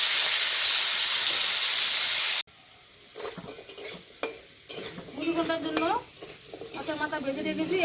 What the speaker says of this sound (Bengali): এখন আলু ভাজছি